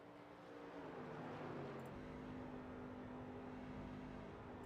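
A racing truck engine in iRacing at Dover International Speedway hums steadily at close range, its tone dropping and shifting partway through as it falters, with no voices.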